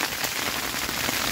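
Heavy freezing rain pounds steadily on a small tent during winter camping, a dense, continuous hiss of close, loud drops with no let-up.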